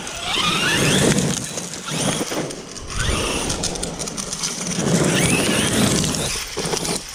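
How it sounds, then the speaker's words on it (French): Loose gravel rattles and clicks inside a Traxxas Sledge RC monster truck with its suspension set high, driven through a forest, a continuous busy clatter over steady motor and driving noise with no talk. "Là, ces petits bruits, c'est la caillasse qui est dedans."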